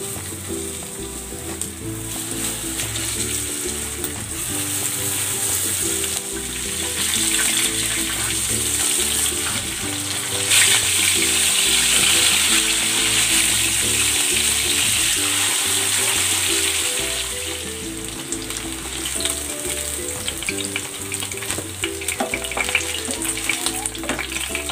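Flour-coated tambakol fish frying in oil in a covered pan: a steady, loud, hissing sizzle that continues for the whole stretch, with background music underneath and no speech.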